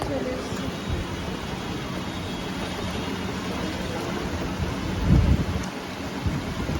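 Rain falls steadily in a Bengal setting while a low, rolling thunder rumble swells briefly in the later part, over a constant wash of rainfall.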